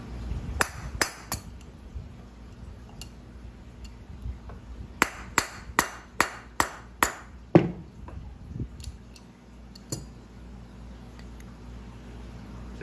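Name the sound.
hammer tapping pump motor shaft to remove bearing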